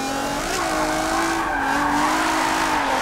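Nissan G35 drift car in Forza 7 at Suzuka, engine droning steadily at high revs with a sustained tire squeal as it slides through a corner, loud and continuous.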